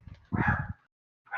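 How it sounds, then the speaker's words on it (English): A little yappy dog gives one short, sharp bark nearby, preceded by a faint low rumble and followed by silence and another quick yap starting. "No, it was a little yappy dog."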